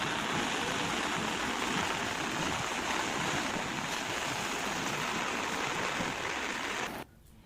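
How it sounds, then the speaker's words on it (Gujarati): Swollen Mohan and Veera rivers in Umarpada, Surat, running bank to bank after heavy monsoon rain, give a loud, steady broadband rush of fast water that holds unbroken for about seven seconds before cutting to near quiet. "મોહન નદી વીરા નદીઓ બે કાંઠે વહી રહી છે"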